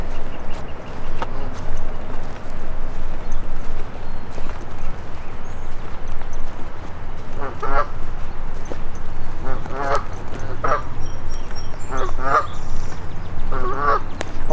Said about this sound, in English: So there are a couple geese here